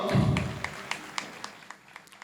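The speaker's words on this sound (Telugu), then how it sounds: "గట్టిగా చప్పట్లు కొడదాం" Crowd applause at a Catholic Assumption feast celebration in Visakhapatnam fading out, a dense burst of clapping at first that thins into a few scattered claps.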